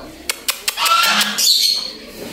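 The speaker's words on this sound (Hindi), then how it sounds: "कबूतर हमारे नीचे आए हैं" Pigeons being fed grain flap their wings in a few quick, close whooshes, followed by a longer flurry of flapping. A person's voice is heard among the wingbeats.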